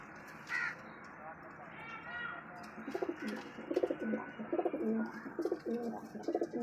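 Racing pigeons coo in a rooftop loft, soft rhythmic throaty calls clustering in bursts close by, with a caw-like cry early on and faint background noise around them.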